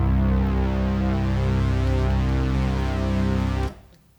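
Arturia SQ-80-V software synthesizer plays its Rock Waves preset, a thick, buzzy sustained chord with shifting wavetable shimmer that holds steady for several seconds and then cuts off abruptly. It sounds alone, with no talking.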